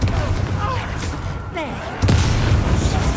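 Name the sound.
Confringo explosion spell from video game Hogwarts Legacy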